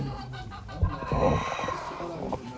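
Chickens cluck faintly among the bustle of a poultry auction in Ankara, with a few short calls rising over background chatter and crowd noise.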